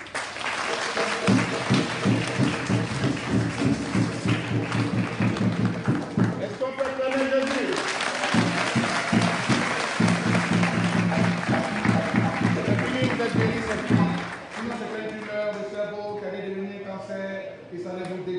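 A church congregation claps and cheers over loud music, the applause sustained and dense before tapering off near the end while a voice carries on.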